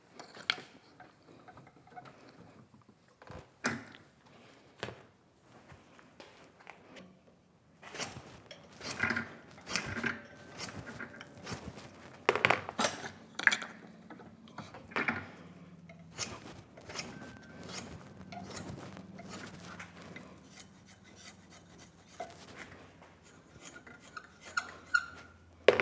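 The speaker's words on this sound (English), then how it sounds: "I'm going to make wedges to wedge these tenons" Hand-shaping a wooden wedge for the tenons of a sack-back Windsor chair: a string of short dry scraping and rasping strokes in bursts, close and fairly quiet, with pauses between them.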